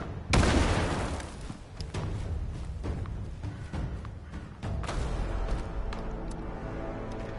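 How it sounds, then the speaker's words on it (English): A grenade explosion in the video game Fallout 76 bursts loudly near the start, followed by continuous rumbling battle noise with scattered gunfire pops and a second surge of blasts midway. "You eat a grenade."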